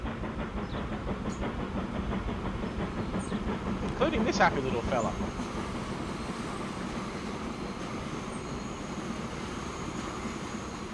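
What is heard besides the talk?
trains running in video game Transport Fever 2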